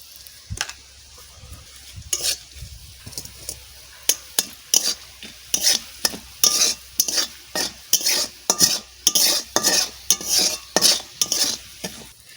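Whole cumin and garam masala frying together in oil, with a spoon scraping the pan in quick repeated strokes that grow steady and rhythmic over a faint sizzle.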